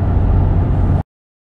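A Jeep driving on the road, heard as a loud, steady low engine and road rumble from inside the vehicle for about a second before it cuts off abruptly.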